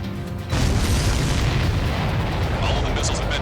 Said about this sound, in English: All the missiles have been destroyed.